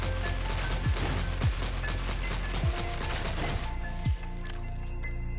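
Las pistol shots in Darktide, a handful of sharp cracks spaced about a second apart over a dense, steady backdrop of game combat noise and music.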